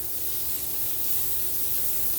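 Steady broadband hiss of water sprayed onto a hard floor toward a drain in a mushroom-growing room during cleaning, continuous and close, with no talking.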